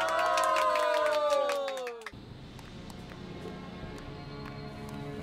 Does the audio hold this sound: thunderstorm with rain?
no